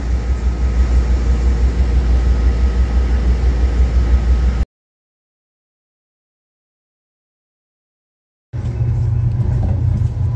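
Amtrak Sunset Limited passenger train running between San Antonio and New Orleans, a steady loud rumble and hiss of wheels and carriage heard from inside, cutting out to silence midway before the same dense roar resumes.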